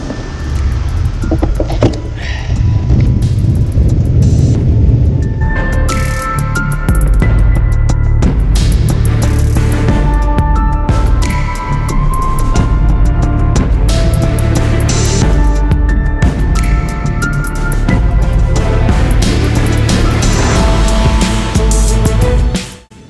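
Bicycle rattling hard over the Aardberg cobbled sector on the Paris-Roubaix route, a loud continuous rumble and clatter with no let-up, heavy low-end vibration throughout and a sudden stop at the end.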